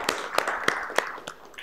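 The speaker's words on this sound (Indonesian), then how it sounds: "Silakan tepuk tangan untuk kalian sendiri" A few sharp claps from students in a classroom ring out at a slow, uneven pace over a low background murmur, sounding like a small group applauding briefly.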